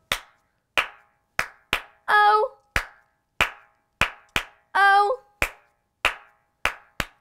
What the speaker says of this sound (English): Four claps!